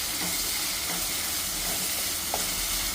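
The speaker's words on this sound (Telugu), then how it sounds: "ఈ టమాటాలను కూడా కొంచెం మెత్తగా వేగనివ్వాలి" Finely chopped tomatoes fry in a pan for a dried fish curry, giving a loud, continuous sizzle and hiss with a few faint stirring clinks, close up and with no voice.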